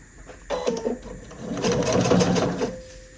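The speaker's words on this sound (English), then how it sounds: "And I just sew this line down with a 1/4 inch seam." Close-up sewing machine stitching a quarter-inch seam on a quilted placemat: a brief burst of stitches, then a longer steady run of needle rhythm that stops abruptly.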